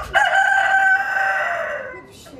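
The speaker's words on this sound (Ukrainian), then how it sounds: "Дзвінким співом зустрічає Петро Петрович відвідувачів Палацу культури" A live rooster kept in a cage in a culture palace foyer crows loudly and close, one long sustained cock-a-doodle-doo in a reverberant indoor space.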